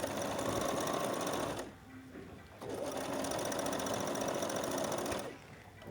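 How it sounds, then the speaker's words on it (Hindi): A sewing machine stitches a round ban collar right along the buckram edge, whirring steadily in two long runs split by a short pause, then stopping, close and fairly loud with no talking. "बुकरम के बिल्कुल किनारे पर हमें स्टिच करना है।"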